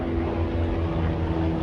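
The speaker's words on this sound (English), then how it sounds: "That's a helicopter." Steady broadband rotor and engine drone from a helicopter passing overhead outdoors, loud and continuous through the whole short stretch with no talking.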